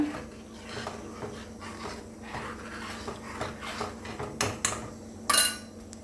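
Soaked black gram stirred in a small pan, light scraping and clinking of a spoon against metal with a sharper clatter near the end.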